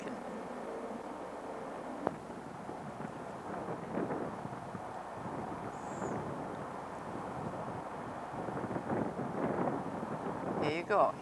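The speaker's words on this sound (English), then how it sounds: "Here you go, here's the wind." Strong wind blows outdoors at a mound site, rumbling across the microphone in gusts that grow louder toward the end, mixed with footsteps and rustling of a bag while walking.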